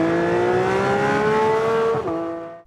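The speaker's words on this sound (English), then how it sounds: "the sound of an internal combustion engine is likely one of the best sounds in the entire" Sports car petrol engine revving: a harmonic-rich tone rises steadily in pitch, then drops abruptly as the throttle lifts and the sound fades away, loud and close with no voices.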